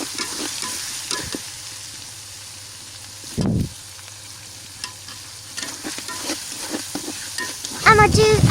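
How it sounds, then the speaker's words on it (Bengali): Chicken pieces fry in hot oil for chicken khichuri, with a steady sizzle and scraping stir strokes through the pan. A brief louder clatter comes near the middle, and more stirring clatter sounds toward the end. "এর জন্য আগে তেলে কিছুক্ষণ ভেজে নিতে হবে, সেটাও আবার গোশটা মচমচে করতে হবে"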